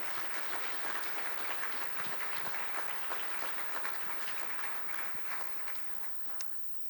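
Soft, steady applause from a ceremony audience at a Rocky Vista University Utah campus induction for the MSBS class of 2025, a continuous even patter of many hands heard from a distance.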